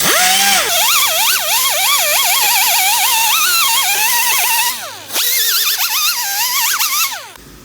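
A wire wheel strips adhesive and brake dust from an 18-inch 2008 Chrysler 300C rim, making a loud, steady, high-pitched whine that wavers up and down with the load, then dips briefly and resumes.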